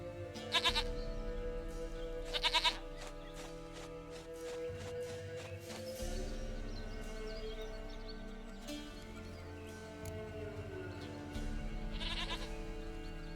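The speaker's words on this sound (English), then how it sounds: "Goat of mine, dearest, sweetest goat." A goat bleats in The Witcher 3: Wild Hunt, with three short, nasal, wavering calls spread apart, heard over a quiet game ambience with soft footsteps.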